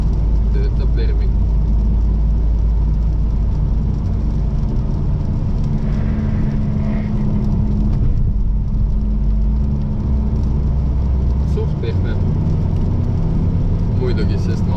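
An Alfa Romeo with a 1.4 turbo petrol engine is driven on a road, its steady low engine drone and road rumble continuous and close throughout, with a voice speaking over the cabin noise.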